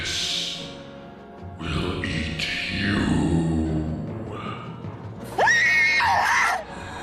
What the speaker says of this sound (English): Gilda screamed in absolute terror